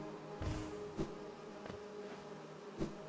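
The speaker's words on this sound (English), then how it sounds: "these are wasps, not bees, aren't they?" Wasps buzzing in Hollow Knight's hive area, a low steady insect drone with a few short louder swells and soft ambient tones behind, no talk.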